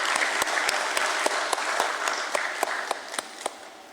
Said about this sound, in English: Ladies and gentlemen, a huge round of applause here.